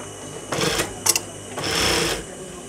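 A sewing machine stitching the hem of a petticoat, heard in two bursts of running stitches with a brief clack between them, close and moderately loud over a quiet room.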